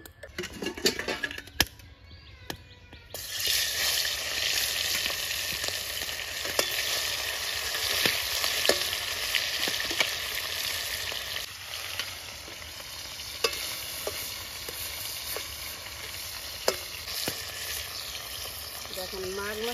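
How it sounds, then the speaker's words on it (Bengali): Mustard oil sizzles and fries in a wok, a steady bright hiss that holds for many seconds, with occasional metal clinks and stirring scrapes up close. "হয়ে গেছে, এবার কড়াইতে সর্ষের তেল দিয়ে দিচ্ছি।"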